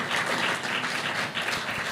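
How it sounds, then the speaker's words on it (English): An audience applauds during a senator's address on the state of South Texas, a moderately loud, continuous patter of many hands clapping at once. "Give yourselves a round of applause, yes."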